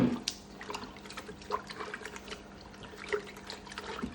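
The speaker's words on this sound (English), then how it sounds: "Just giving it like a little gentle squeeze, just getting rid of the excess." Dirty brown water squeezed from a grubby reef aquarium canister filter sponge, dribbling and trickling into a sink or container in soft, irregular splashes and drips, fairly close and low in level, with no talking.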